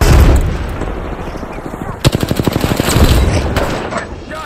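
Rapid gunfire in Apex Legends during a squad fight, a dense burst of sharp shots fired in quick succession at close range, loud and repetitive, preceded by a noisy mix of game effects.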